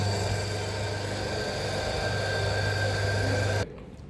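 A laboratory generator runs steadily at 1475 RPM, a constant humming drone with a strong low tone that cuts off abruptly near the end, leaving quieter room noise.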